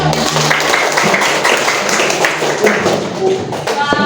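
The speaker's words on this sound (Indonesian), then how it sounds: "Oke, tepuk tangan." A class of students clap together after singing, a continuous busy patter of many hands, close and loud, with occasional voices underneath.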